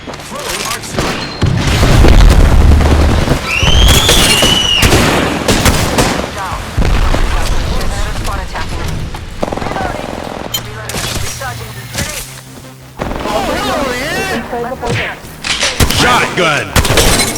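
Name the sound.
shotgun fire in the video game Apex Legends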